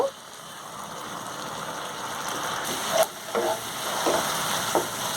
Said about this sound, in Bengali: মশলাটা মোটামুটি একটা কষিয়ে নিয়েছি